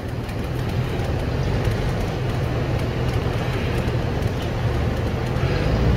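A tank grinds and roars continuously as it is driven, its loud, dense rumble and clatter holding steady without pause.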